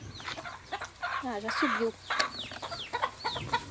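Farmyard hen clucking repeatedly in a rural countryside setting, with bursts of close, agitated calls among other fowl, while a person speaks briefly over the birds.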